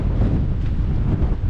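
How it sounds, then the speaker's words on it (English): Strong wind on the Cape to Cape coast of south-west Western Australia buffets the microphone in a steady low rumble, loud and continuous with no voices. "another windy old day on the Cape."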